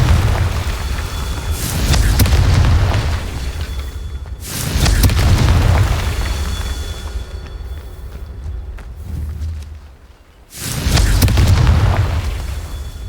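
The Confringo blasting spell in a wizarding video game erupts in three deep, rumbling booms, each swelling and fading over a couple of seconds with brief quieter gaps between, loud and close with no voices.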